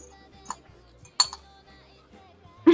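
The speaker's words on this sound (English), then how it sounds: "I've been hearing the clinking the entire game." Cutlery and dishes clink softly now and then, a few sharp metallic taps scattered over a quiet room with faint background tones.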